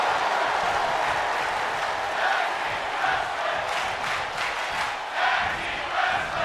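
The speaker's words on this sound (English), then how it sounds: "You hear the appreciation from this San Antonio crowd." A San Antonio arena crowd in the WWE 2K24 wrestling video game keeps up steady cheering and applause during a tag team match, a dense, continuous roar with occasional swells and no clear voices on top.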